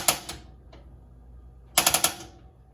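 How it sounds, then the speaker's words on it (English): Propane stove igniter on a 2025 Forest River Wildwood 40RLB RV, sharp close clicks: a couple at the start, a faint one after, then a quick burst of four rapid snaps, no talking. "push the knob in, turning it over to the high/light option and hitting that igniter"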